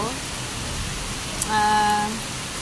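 Heavy rain falling during an outing by a river, a dense steady hiss throughout, with a person speaking briefly over it partway through.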